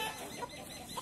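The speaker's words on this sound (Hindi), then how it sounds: "ये पूरा खासी मुर्गा देखो लाल लाल कलर का देखो" A red Khasi rooster at an Assam market gives a brief, faint cluck or two within a single second of low-level background noise.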